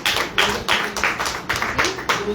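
An audience claps in a rhythmic series of sharp, evenly spaced bursts, fairly faint in a room, with a voice faintly present.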